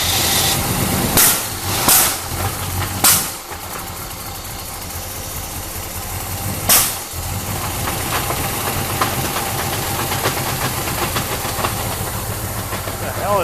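A 1981 Chevy Camaro engine runs with a steady mechanical drone and a faint knocking beneath it, punctuated by several sharp hissy bursts early and one later; a voice speaks over it.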